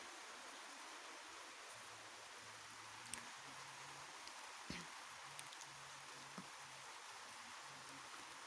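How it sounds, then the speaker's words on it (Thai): Rain falls steadily outside as a soft, continuous hiss, faint and distant, with a few brief louder drops and a low hum underneath. "ฝนตกเสียงเสียงดังมากเลยข้างนอก"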